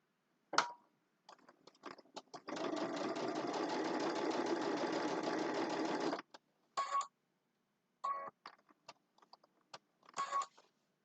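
Sewing machine stitching fabric for a hand sanitizer holder: a few short bursts, then a long steady run of rapid needle chatter, followed by more brief start-stop bursts, close and clear.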